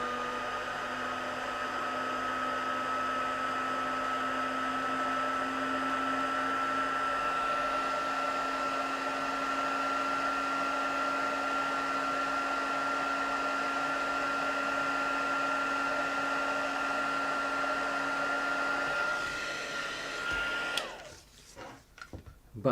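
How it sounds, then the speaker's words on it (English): A heat gun blows steadily for about nineteen seconds while heat embossing powder on a handmade card, a continuous hot-air whirr with a fixed whine, then cuts off into brief handling noises. "So I'm using the heat gun now."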